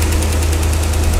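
A 1957 Ford Thunderbird engine idles steadily up close, its valves faulty, with a rapid, even ticking knock running over a constant low rumble for the whole stretch and no voices.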